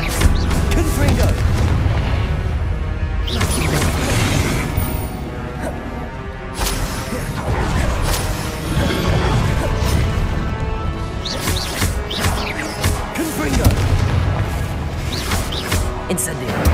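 Confringo spell explosions from Hogwarts Legacy on PS5 boom and crash one after another, loud and close, layered over dense game music and effects.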